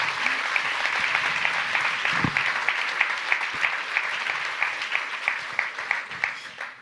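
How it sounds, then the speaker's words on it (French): Audience at a summer business event claps for a speaker, a sustained round of applause that gradually thins into a few distinct rhythmic claps toward the end. "On peut vous applaudir très très fort."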